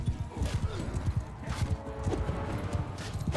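Horse hooves clip-clop in a steady trotting rhythm in the medieval battle game Mount and Blade II: Bannerlord, with battle noise and someone talking over it.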